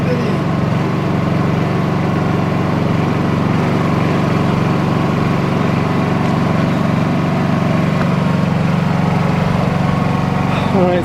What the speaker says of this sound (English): connected up to the Honda, running on propane